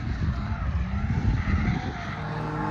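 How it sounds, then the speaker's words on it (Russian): A rally car's engine revs hard while its tires skid on the stage, producing a loud, continuous roar with gritty scraping that holds steady for the whole moment. "Я кайфую, конечно, что он газует."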